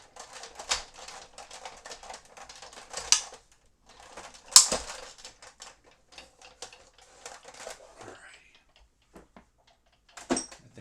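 An old craft die-cutting machine feeds cardstock through with a steady, busy mechanical clatter and rattling, fairly close, easing off toward the end with a few scattered clicks.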